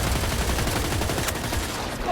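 A full-auto railgun fires in the Battlefield 2042 shooter game, giving a loud, dense wash of battle noise with one sharp crack near the middle of the short burst.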